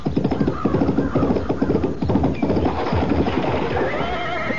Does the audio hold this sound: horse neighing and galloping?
yes